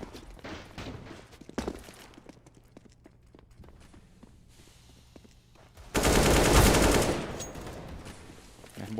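Gunfire during a Counter-Strike match on Mirage, with scattered pistol shots and footsteps early on, then a loud sustained burst of rapid automatic fire later, close and dominant, all without talk.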